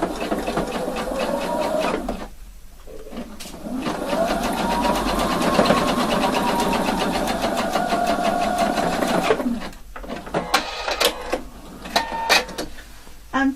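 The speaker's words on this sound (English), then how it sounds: "So now sewing this piece here, 1 centimeter of seam allowance." Sewing machine running in long continuous bursts while stitching a tailored shirt collar with stand, a steady rapid mechanical whir with short pauses and brief stop-start runs near the end.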